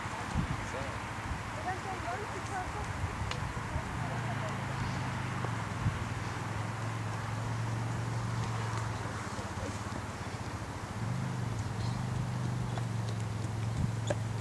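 A horse's hooves clip-clop steadily at close range during a riding lesson, beating on under an instructor's ongoing spoken directions.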